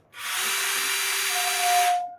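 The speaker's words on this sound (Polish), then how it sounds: "I teraz zobaczcie, jak chodzą nasze urządzenia. Najpierw wiertarko, wkrętarka" Panasonic cordless drill-driver whirring steadily for about two seconds with a smooth, even motor hiss and a faint rising whine partway through, close up with no talking.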